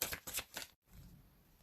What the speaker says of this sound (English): I'm going to just shuffle the cards very quickly